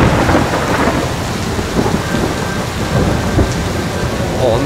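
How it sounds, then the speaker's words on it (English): A thunderstorm ambience for a haunted-themed effect: loud, dense rain with low rolling thunder running continuously and no voices. "Thunderstorms."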